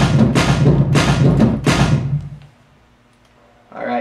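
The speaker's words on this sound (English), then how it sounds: "it's my heavier drums" A heavy drum part from a one-man-band guitar patch, triggered through a TriplePlay guitar MIDI setup and played solo: loud, dense pounding hits for about two and a half seconds, a silent gap, then a brief return of sound.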